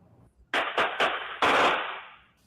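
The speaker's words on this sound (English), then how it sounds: "A barrage of gunfire at Reveille Park late Thursday night was preceded by arguing" Gunfire at a park late at night, caught on a surveillance camera: three quick loud shots, then a longer burst of rapid shots that trails off with a fading echo.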